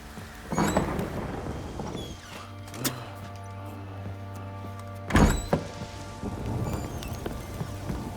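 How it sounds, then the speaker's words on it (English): In The Witcher 3: Wild Hunt, a rainstorm hisses steadily while deep thunder cracks and rumbles twice, with a low humming tone running beneath the downpour. "The storm, damn it."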